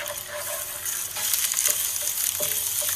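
Soun (glass noodles) frying in oil in a wok, a steady dense sizzle throughout that grows louder partway through, with faint scraping stir sounds mixed in and no talking.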